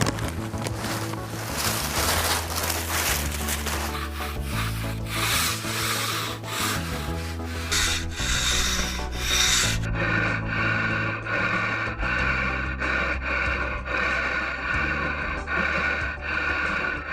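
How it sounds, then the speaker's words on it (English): A stiff bristle broom scrubs loose debris off a freshly stained wooden deck, a steady, dense scratching and rubbing that runs continuously and close at hand. "Ryan and I are gonna go ahead and stiff bristle broom the deck to make sure we got off all that loose debris."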